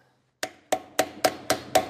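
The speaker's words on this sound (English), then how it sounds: "going around it gently with the hammer so I don't" A hammer strikes a chisel to work off a trailer hub bearing cap, giving six sharp, evenly spaced metallic taps, close and clear, with short ringing decays.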